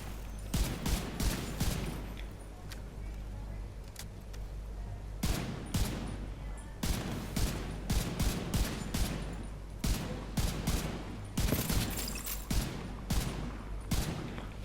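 Shots from the Baker's Dozen gun in a shooter video game, a series of sharp cracks fired in irregular bursts and single shots, close and loud, with quiet ambience between volleys and no talk.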